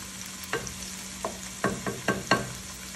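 Coarse garlic frying in a pan for mussels marinara over medium-high heat, a soft steady sizzle broken by several sharp stirring scrapes and taps, close and alone with no voices.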